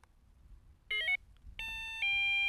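A Delkim TX-i carp fishing bite alarm sounds a short warbling beep followed by two sustained electronic tones as it cycles through its colour settings, clear against a quiet background.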